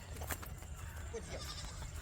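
A goat bleats in a noisy rural setting, its short wavering call rising briefly above steady background rumble and hiss.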